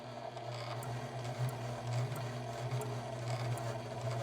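Singer 4411 sewing machine running steadily after a needle clearance adjustment, a continuous close mechanical hum with a faint rhythmic ticking of the needle mechanism, alone without talk.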